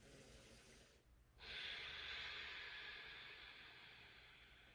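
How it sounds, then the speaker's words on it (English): Slow ocean-style ujjayi breath during a yoga-like practice, a steady hissing airflow that swells after a short pause and holds, soft and close with no talking. "It can be really powerful to bring in some ujjayi breathing, some ocean breathing."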